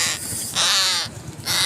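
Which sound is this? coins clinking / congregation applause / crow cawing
crow cawing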